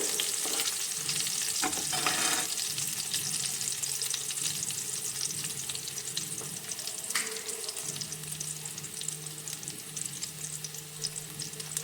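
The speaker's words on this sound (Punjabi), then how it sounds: "ਲਸਣ ਨੂੰ ਅੱਛੀ ਤਰ੍ਹਾਂ ਪਹਿਲੇ ਭੁੰਨ ਲੈਣਾ" Garlic fries in a pan for palak paneer, a steady low sizzle with occasional stirring scrapes, close and continuous with no talk.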